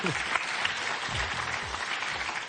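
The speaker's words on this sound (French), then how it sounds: "les applaudissements du public" A studio audience on the French TV game show Mot de Passe bursts into sustained, lively applause, a thick, close crowd of clapping with a few faint voices murmuring underneath.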